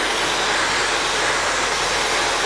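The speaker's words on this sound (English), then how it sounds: "I'm scooping the hair out and pulling it out with the blow dryer" Loud, continuous whoosh of a blow dryer drying and lifting a man's hair into a slicked-back style, steady broadband roar close to the ear with no talking.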